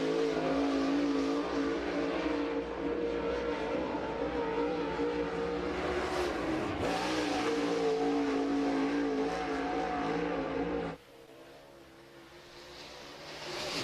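Race cars roaring around the Cherokee Speedway oval in Gaffney, South Carolina, engines loud and sustained with a passing swell near the middle, then dropping off abruptly as the pack moves away, with no talk.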